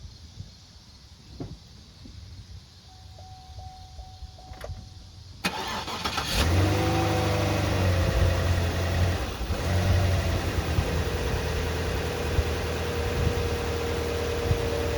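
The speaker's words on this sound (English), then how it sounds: "Let's start the car and see if our alternator's charging." A 2007 Cadillac SRX engine cranks over and catches after a quiet stretch of small clicks, then settles into a steady, slightly uneven idle close by.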